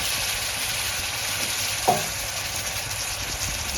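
Small onions (shallots) fry in a pan for a beef heart roast, giving a soft, steady sizzle with one brief clink of a stirring utensil.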